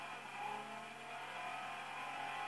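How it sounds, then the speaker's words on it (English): A Red Bull Hyundai Genesis drift car engine revs steadily in the racing video game Forza Motorsport 4, a continuous high buzzing drone that holds at an even level throughout. "I'm guessing that's a drift car or something."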